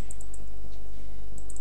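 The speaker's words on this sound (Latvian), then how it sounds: "Sorry, ja jūs dzirdat kā klikšķis mana pēlē." Quick light clicks from a computer mouse come in small clusters at the start and end, close and crisp over a steady low hum, during a Minecraft multiplayer session.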